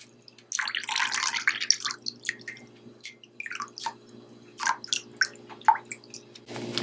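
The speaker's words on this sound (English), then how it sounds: "I'm gonna strain my rice water." Rice-soaking water is poured through a strainer, bursts of pouring and trickling broken by drips and pauses, close and clear with a faint hum beneath and no talking.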